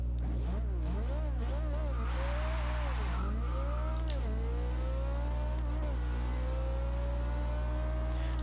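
A 2010 Abarth 500 drag car in Forza Horizon 2 revs hard through quick gear changes, its engine pitch climbing and dropping repeatedly before settling into a long, steady rising whine over a constant low hum.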